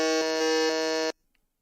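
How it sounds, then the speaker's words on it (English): A trivia game show buzzer blares once, a loud harsh electronic tone holding for about a second before cutting off sharply into silence. "Yep, buzzers are cleared."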